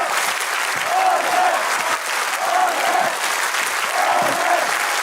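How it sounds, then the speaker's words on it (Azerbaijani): A studio audience at a televised talent-show contest claps steadily and loudly, dense sustained applause swelling in waves throughout. "Azər, mən Ayşəni ürəkdən alqışlayaq və yola salaq."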